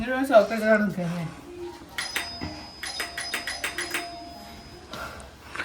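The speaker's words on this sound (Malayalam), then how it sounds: "ബെല്ലടിച്ചോണ്ടിരിക്കും ബെല്ലടിച്ചോണ്ടിരിക്കും" A house doorbell rings over and over in quick electronic chimes, fairly faint and indoors, after a short stretch of someone talking.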